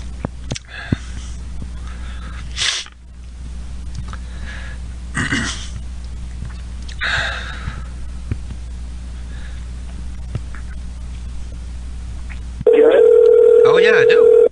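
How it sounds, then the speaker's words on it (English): A steady telephone dial tone sounds loudly alone at the end, after a long stretch of radio-show talk and broadband hiss carried over a phone line. "But I'm going to go try to dial them now, all right?"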